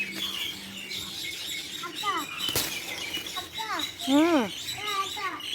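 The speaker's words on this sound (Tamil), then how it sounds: "பறவைகள்லாம் வர ஆரம்பிச்சிச்சு." Birds chirp around a guava tree at a grandmother's house, with several rising and falling tweets and calls close by, mixed with a person talking and a sharp click partway through.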